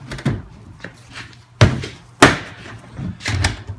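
A lock bolt on a door is knocked out of place with a few sharp, heavy wooden-metal thuds, spaced irregularly and close, with no talk.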